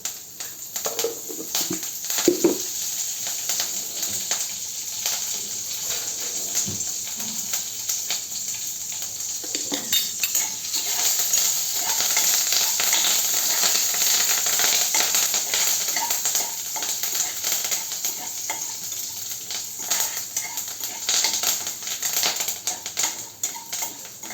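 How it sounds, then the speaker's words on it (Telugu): Chilies, cumin, urad dal and curry leaves frying in hot oil for a tempering, a steady crackling sizzle with scattered sharp pops, close and fairly loud throughout, with no talking. "ఇంకా పోపు అంతా కూడా మంచిగా వేగిపోయింది చూసారా."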